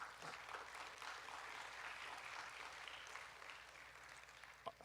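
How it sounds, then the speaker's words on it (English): Audience applause at a boys' academy graduation ceremony, a soft, distant, continuous patter of clapping from a crowd, lasting several seconds. "Would you give her a round of applause, please?"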